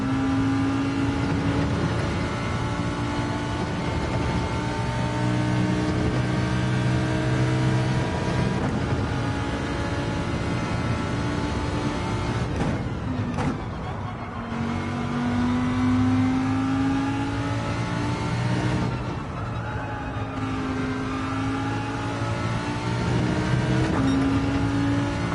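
Race car engine in Gran Turismo 7 during an online league race: a steady loud engine drone with rising and falling revs through gear changes and corners, running continuously with no talk.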